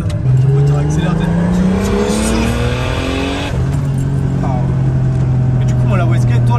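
A turbocharged BMW E36 engine roars and climbs in pitch as it accelerates hard, shifts, then pulls again, loud and close.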